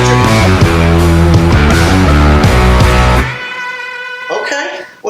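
An electric guitar plays a dense, loud run of notes and chords for about three seconds, then cuts off, leaving a faint ringing tail with a little background noise.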